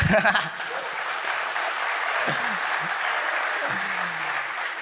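Audience applause during a DEF CON security talk, a steady, moderately loud clapping that sustains through the whole stretch with a few faint voices underneath.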